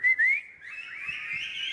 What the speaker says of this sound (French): Est-ce que vous pouvez essayer de siffler? Allez-y.